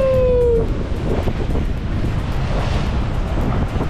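Ocean waves and wind on the coast at Port Stephens, Australia, form a steady, full roar of surf with wind buffeting the microphone throughout. A brief high whistling tone rises over it at the very start.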